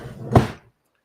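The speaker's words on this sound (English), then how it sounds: "Let me just put this in my drawers." A single short thud of a bedroom drawer being pushed shut, close and fairly loud, with a little rustle before it and then silence.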